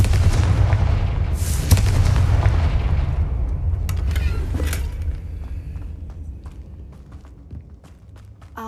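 A Confringo explosion spell cast in the Hogwarts Legacy video game: a loud, deep booming blast that rumbles and decays over several seconds, followed by scattered small crackles and debris sounds, with no talking.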